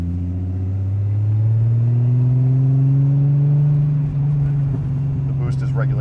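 A Nissan Laurel sedan with a swapped turbocharged RB25 engine and big single turbo pulls hard, its tone climbing steadily in pitch as it accelerates, loud and close, with a brief change of note near the end.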